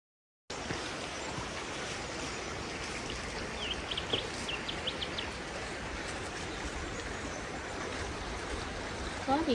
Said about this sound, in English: this is a really lovely little creek